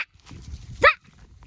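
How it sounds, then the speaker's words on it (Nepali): One of two dogs gives a single short, sharp bark near the end, fairly close, after a stretch of quiet low background sound. "यो दुईटा कुकुर"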